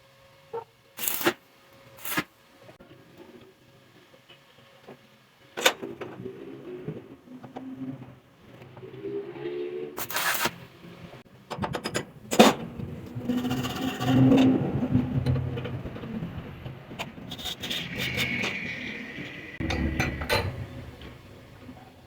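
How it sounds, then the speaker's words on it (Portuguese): A small iron plate, a 6 by 1/8 flat strip, being tack-welded in a metal workshop, with a few sharp bursts and crackling buzz between clanks and handling noises, the welding loudest mid-clip. "Eu vou soldar aqui pra gente ver como é que vai ficar isso."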